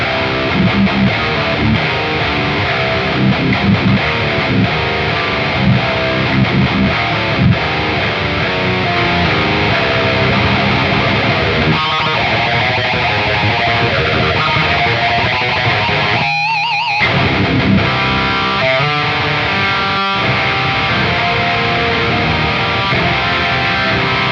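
Electric guitar played through a GE250 distortion and boost, a dense saturated tone sustained loud and continuous, with a brief dropout and a few choppy stabs near the end.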